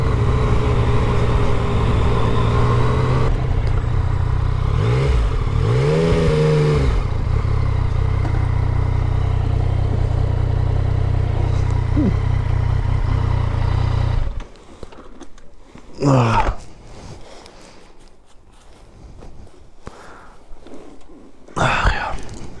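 A Yamasaki motorcycle fitted with an Akrapovic exhaust runs loudly, its engine droning with a couple of rising revs, then drops away to quieter road and wind noise with brief swells.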